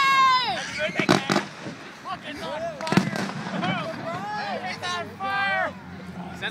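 Fireworks at the Marin County Fair burst in a quick cluster of sharp pops and booms, several close together, amid excited crowd chatter and a voice talking over the display.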